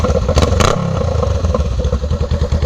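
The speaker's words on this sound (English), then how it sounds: "first impressions of the Shorty GP from Radiant Cycles on the Honda Rebel 500 without the baffle in" Honda Rebel 500 running with a Radiant Cycles Shorty GP exhaust, baffle removed: a loud, close, steady engine rumble with a quick rev burst near the start, then a throbbing idle with no talk.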